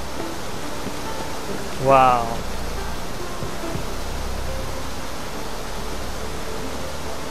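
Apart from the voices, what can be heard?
waterfall in a video game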